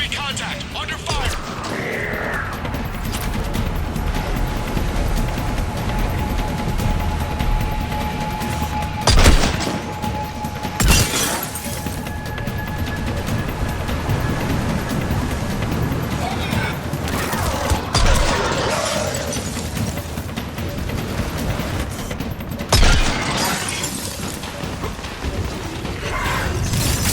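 Gunfire in a Mass Effect 3 firefight during the Leviathan DLC, sharp bursts and loud cracks scattered through a dense, continuous din of combat noise.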